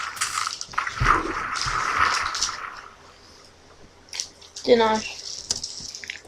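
In the Minecraft Twilight Forest mod, a diamond drops into water with a short splashy gurgle and a burst of bubbly burbles near the end, while a voice talks briefly over the game sounds.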